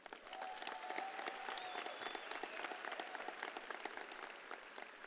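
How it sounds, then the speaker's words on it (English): A crowd at a high school graduation ceremony applauds its valedictorians, dense sustained clapping filling a large hall, with a faint tonal squeal from the sound system threading through. "Let's have one more round of applause for our valedictorians."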